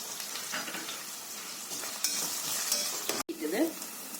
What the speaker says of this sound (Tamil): வெங்காயத்தையும் பச்சை மிளகாயும் போட்டு வதக்கும்.